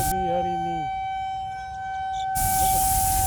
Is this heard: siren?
yes